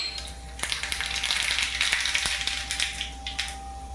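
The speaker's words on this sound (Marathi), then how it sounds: "तेल गरम झालं आहे गॅस मी बंद करते आणि ही मोहरी याच्यात टाकते" Mustard seeds dropped into hot oil for a Marathi chutney tempering, with the gas turned off, crackle and sizzle steadily throughout, sharp pops scattered over a dense close frying hiss, with no voices.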